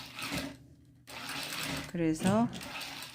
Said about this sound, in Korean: 저는 항상 이렇게 시접을 노루발 하나 정도로 박아줍니다.